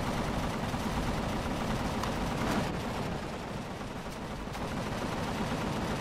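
Gunfire from a base turret in Empyrion firing at wildlife, a dense continuous rattle of rapid shots with a few louder bursts, steady and fairly close, with no talk.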